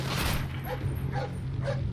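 A guard dog in the stealth video game Tom Clancy's Splinter Cell: Blacklist barks and yips in a few short, sharp bursts over a steady low game hum, with no talk.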